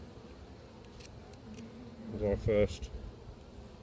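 Honey bees buzz softly around an opened hive at an apiary late in the season, a faint steady hum with a few louder passes close by, while someone speaks briefly over it.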